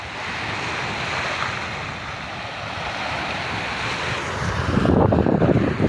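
Strong wind buffets the microphone at a sunny beach, a steady roaring rush over breaking surf that swells louder near the end, with no voices.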